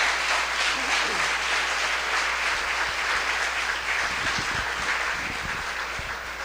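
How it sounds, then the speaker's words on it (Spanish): A church congregation gives a strong, sustained round of applause, dense clapping that fills the room and fades slightly toward the end, with a few louder individual claps near the microphone. "Amén, fuerte ese aplauso"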